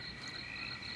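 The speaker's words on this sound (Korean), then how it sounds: "옥문지의 개구리 떼가 까맣게 몰려나와 밤낮 없이 저리 울어댄다 하옵니다." Frogs croak as a massed chorus from a palace pond in ancient Silla, sounding as a dense, continuous rasping drone with no pauses or voices, used as an audiobook sound effect.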